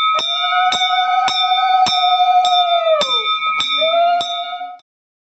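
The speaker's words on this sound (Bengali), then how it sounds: "মা একটু ঘন্টাটা বাজাও, আমি ভিডিওটা করছি।" A temple hand bell rung rapidly and steadily during worship, bright metallic strikes about twice a second with a sustained ringing tone, close and loud, stopping abruptly.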